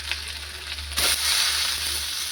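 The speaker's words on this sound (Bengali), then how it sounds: "টমেটোতে নুন দিয়ে তারপর ভাজবো ভালো করে" Salted tomatoes fry in a pan for a pumpkin-leaf curry, a steady hiss that swells into a louder, fuller sizzle about halfway through, with no talking.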